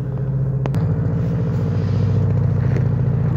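A Subaru with a big untuned turbo and large exhaust rumbles loud and close, its deep, uneven engine note rising slightly as it revs in a driveway.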